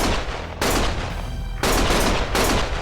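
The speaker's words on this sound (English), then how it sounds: "Stop shooting!" Rapid automatic gunfire from the video game Lost Judgment rattles in loud sustained bursts, with a brief lull in the middle before the shooting resumes just as intensely.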